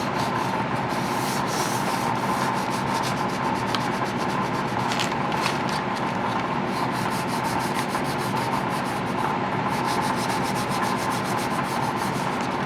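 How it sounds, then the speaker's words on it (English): Sandpaper rubs steadily across a primed plastic model starship nacelle, a loud, close, continuous rasping scrub with rhythmic back-and-forth strokes and no talking. "You can also do this as wet sanding"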